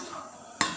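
A spoon stirs a roasted rice flour kozhukattai mixture in a pan, quiet soft scraping followed by two short, sharper scrapes near the end.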